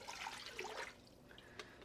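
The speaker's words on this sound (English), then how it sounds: "pour the water in." Water is poured into a Ninja Foodi cooking pot, a soft splashing trickle that runs for about a second and then fades to a few faint drips, quiet and close.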